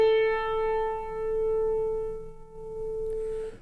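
A single piano note struck once and held, its tone ringing clean and steady before fading slightly, with a faint quiet background and no voices.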